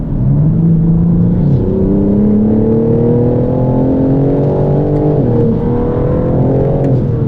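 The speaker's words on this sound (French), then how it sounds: "Hop, je mets mon mode sport, ça ouvre les clapets." A BMW M3/M4 Competition from 2021 with 510 hp, its engine roaring loud and close in sport mode with the exhaust valves open, revs climbing steadily through the gears with one brief dip at a shift.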